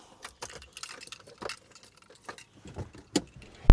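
Car keys jangle in a series of bright, scattered metallic clinks, loudest near the end, heard close up in a garage while a Benz and a Pajero are being worked on.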